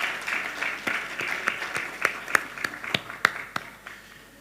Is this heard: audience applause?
yes